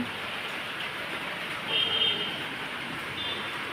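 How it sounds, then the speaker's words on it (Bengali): Steady rain falling outdoors, a dense even wash of patter with a brief louder swell in the middle, heard on its own without talk. "শুরু হয়ে গেছে বৃষ্টি"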